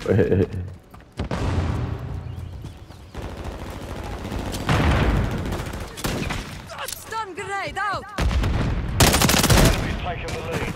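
MTZ 556 rifle fire in Modern Warfare 3 team deathmatch multiplayer, heard as loud repeated bursts with short gaps, while a voice talks and exclaims over parts of the shooting.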